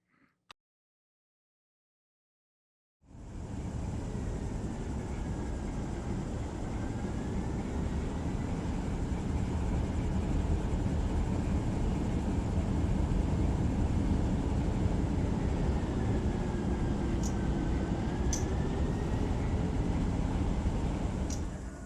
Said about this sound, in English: So our train just came to a stop